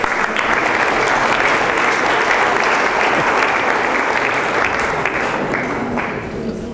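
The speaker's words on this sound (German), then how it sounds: "Klatschen Sie nicht für mich, klatschen Sie für den Mut" Audience applause at a Lions Club kale dinner event, steady dense clapping from a large crowd filling the room, loud and continuous before slowly easing.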